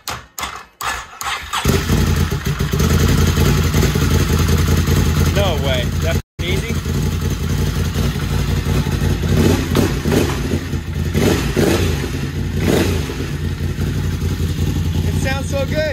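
A freshly rebuilt Can-Am Rotax V-twin engine cranks with a few thumps, catches and then runs loudly and steadily near the listener, briefly cutting out once before roaring on, with someone talking over it.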